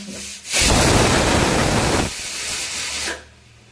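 Pressure cooker whistle in a home kitchen, a loud steady hiss of escaping steam lasting about a second and a half, then a quieter hiss trailing off, with no talking over it.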